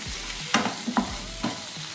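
Large chunks of bottle gourd with tomato, ginger and garlic sizzle steadily in a hot pan, a constant frying hiss broken by a few scraping stirs of a spoon, close and clear with no talk.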